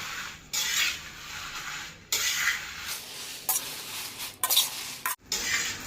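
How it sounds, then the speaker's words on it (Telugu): Dried red chillies roasting in a pan, with a spoon stirring and scraping against the metal in bursts, soft sizzling and rustling in between, close up with no voices. "ఎండుమిర్చి అన్నీ వేసేసి మొత్తం బాగా వేయించుకోవాలండి"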